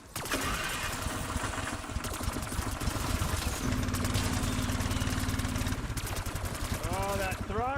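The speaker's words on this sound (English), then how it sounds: "let's get the snow dog fired up." A Snow Dog motorized snow machine is pulled over and its small engine catches, sputtering into a rough, loud, rapid chatter close by, with a voice partly over it.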